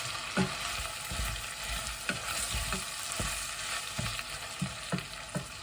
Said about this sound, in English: I'm going to stir that all in with the meat, carrot, onion and everything else.